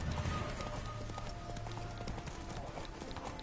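Roach, a horse in The Witcher 3, gallops with rapid, steady hoofbeats clopping over a continuous rush of background ambience at moderate loudness.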